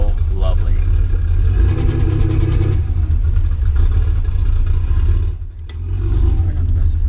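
A cammed 1984 Porsche 911 Turbo (930) with a Kremer engine rumbles loud and close, a steady deep drone with a brief dip near the end.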